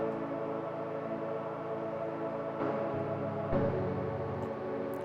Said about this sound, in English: I found this wide room pad of the Ableton wavetable synth.